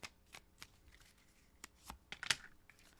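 A few quick riffles and soft snaps of tarot cards being shuffled come through in a quiet room, scattered irregular bursts with one sharper flick near the end.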